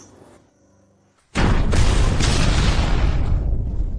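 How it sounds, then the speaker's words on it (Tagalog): A building explosion erupts as one sudden loud boom, then a heavy, sustained roar rumbles on for several seconds after a quiet lead-in. "Tinatawag mong fireworks ang pagsabog na iyan."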